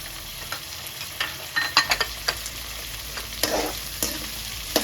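Tomatoes and onions sautéing in a pan for a Tamil-style crab gravy, giving a soft continuous sizzle broken by irregular clacks and scrapes of stirring, close and without speech.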